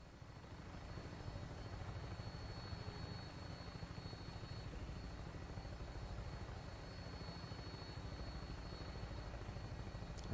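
Steady, continuous rotor-like aircraft drone from Fallout 4 holds an even level throughout as the craft comes in on final approach, with faint high tones riding above the low rumble and no talking.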